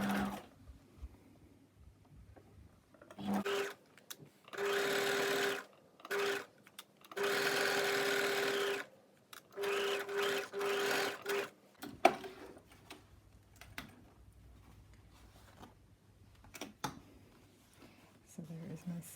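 Sewing machine stitching a seam on a strapless bodice, several bursts of steady mechanical whirring with short gaps, then fabric handling and quiet rustling.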